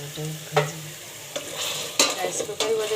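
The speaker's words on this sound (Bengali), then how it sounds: "এটা একদম চারিদিকে সমান প্রত্যেকটা সেমাই ভাজা হচ্ছে" Vermicelli (semai) frying in a pan with a steady low sizzle, broken by several sharp scraping stirs of a spatula against the pan, close and fairly loud, with no talking.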